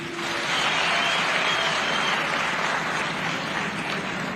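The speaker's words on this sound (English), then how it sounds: "Can you clap for this MP?" An audience at a meeting of councillors and local government officials applauds in steady, dense clapping that holds for several seconds at moderate volume, with no talk over it.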